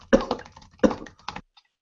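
A man coughs in two close, rough bursts followed by a shorter cough, nearby and fairly quiet, with a silent gap after.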